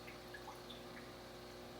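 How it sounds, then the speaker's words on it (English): Quiet, steady flow of water from reef aquarium pumps with a faint, constant hum beneath it, continuous and unbroken throughout. "making sure that all the pumps work correctly, making sure there's water coming out"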